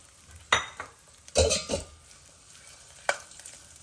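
Pumpkin seeds, melon seeds and raisins fry in a pan, with a few sharp spatula scrapes and clinks against the metal over a faint sizzle, close by, with no talking.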